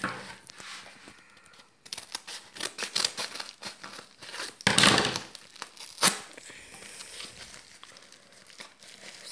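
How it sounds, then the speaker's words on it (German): Plastic packaging crinkles and tears as a fidget spinner is unpacked, with irregular bursts of rustling and one sharp loud rip near the middle, close and without talk. "heute habe ich den zweiten Fidget Spinner aus China und ich werde ihn jetzt auspacken"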